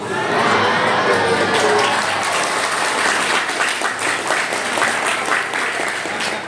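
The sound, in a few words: audience applause and cheering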